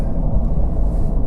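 A Corvette C8 on the move puts out a deep, steady engine rumble, low and continuous with no gaps, fairly loud and heard alone.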